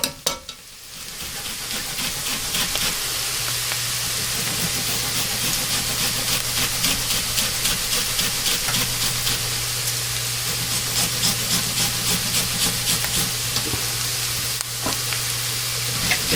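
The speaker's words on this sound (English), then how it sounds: "And I have 2 rice cookers going." Two rice cookers running on a kitchen counter, a steady steamy hiss and bubbling with a low constant hum and a faint rapid rattling pulse, close and unbroken for the whole stretch, no talking.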